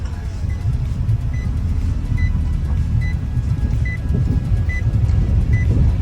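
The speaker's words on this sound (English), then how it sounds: "Never mind the beeping, it's just because I ain't got my seatbelt on." A car's seatbelt warning chime beeps about every second over a steady engine rumble inside the car.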